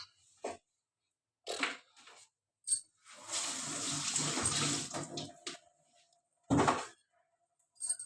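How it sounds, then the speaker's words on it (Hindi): Water chestnuts washed in a sink, with bursts of running water, splashing and handling clatter separated by short quiet gaps, close and moderately loud. "अब इसके सिंघाड़े धोऊंगी।"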